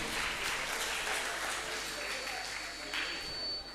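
An audience claps and cheers steadily throughout, a dense wash of applause at full strength.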